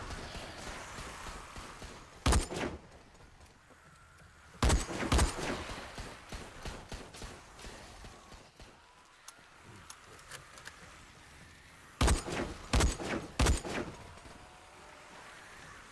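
Gunfire in the video game Dead Frontier 2 comes in short sharp bursts of a few shots each, separated by pauses over quieter game ambience, with no speech.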